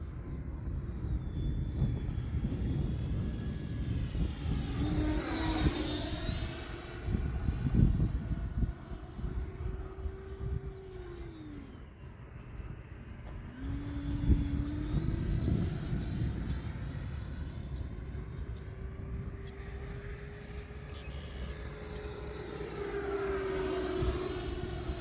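An E-flite 90mm Viper RC jet flies past at about half throttle, its ducted-fan whine rising and falling in pitch as it passes and circles, moderately distant, with outdoor breeze underneath.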